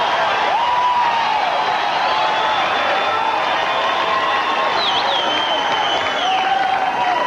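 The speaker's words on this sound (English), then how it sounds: "Crowd's going to love this. They do." A crowd applauds and cheers at a 1994 beach volleyball match in Boulder, a steady, dense roar of clapping and shouts from many people, with whistles and calls rising above it.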